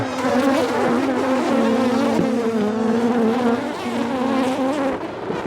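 Dense, steady buzzing of a honeybee swarm being moved in a garden cart outdoors, loud and close throughout with a sustained hum and no speech.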